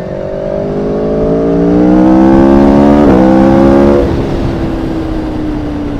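A motorcycle at a biker meetup rides through a curve, its engine note rising in pitch and then dropping off as it passes close and loud, then fades into a steady distant hum.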